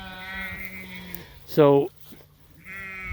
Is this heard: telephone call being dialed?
no